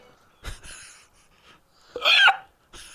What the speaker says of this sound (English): when I said you hiccup, that's what I sounded like